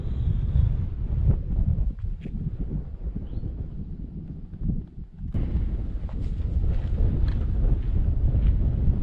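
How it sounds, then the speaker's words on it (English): Wind blowing on the mountain top of Black Balsam Knob in Pisgah National Forest, strong gusty buffeting against the microphone, dropping briefly to a lull midway before roaring back. "It's also very windy."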